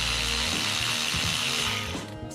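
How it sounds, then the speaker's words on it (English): A power ratchet whirs and clatters steadily as it works M8 bolts loose on a Jeep Wrangler JLUR differential glide plate, a close, continuous mechanical buzz that tapers off just before the end, with no talking. "I'm liking this power ratchet."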